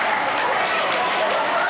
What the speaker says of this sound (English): We've got a wonderful crowd.